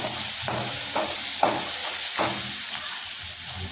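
Turmeric sautéing in oil in a pan while cooking bombil (Bombay duck) bhath: a steady close sizzle with a few soft stirring scrapes, no talking.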